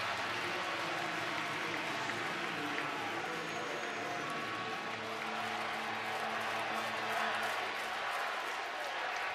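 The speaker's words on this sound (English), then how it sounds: "And a huge crowd on hand, most wearing maroon and white, as they hope to witness history" A large stadium crowd, mostly in maroon and white, at the 2021 NCAA College World Series baseball game with Mississippi State applauds and cheers in a steady, sustained wash of noise that fills the park throughout.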